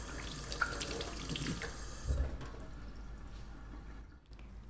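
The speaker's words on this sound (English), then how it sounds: "gently rub produce while holding under plain running water, like this" Tap water runs steadily over fresh fruit and vegetables being rinsed and gently rubbed by hand at a sink, a soft continuous hiss with faint splashes, close and alone.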